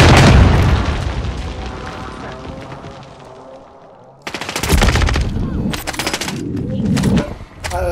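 Shotgun fire in a multiplayer shooter game, loud booming blasts in quick bursts, a dense barrage at the start and a second cluster of sharp shots later.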